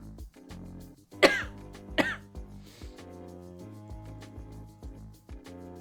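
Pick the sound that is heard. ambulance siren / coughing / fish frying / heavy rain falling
coughing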